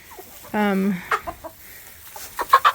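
A rooster that had been bullied by other roosters gives a short harmonic call, then several brief clucks and squawks, close by and fairly loud, with no talking.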